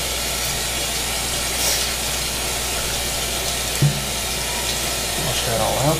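Running water from a sink tap rinses a freshly cut brook trout fillet, a steady broad hiss with a brief clunk partway through and faint splashing near the end.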